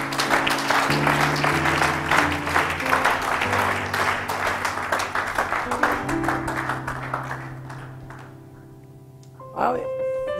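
A church congregation applauds during a sermon on spiritual warfare and deliverance. Loud, dense clapping with voices mixed in fades gradually, then a single voice rises at the end.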